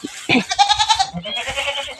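Goats bleating on a farm in the morning, a few wavering cries overlapping in quick succession, close and fairly loud.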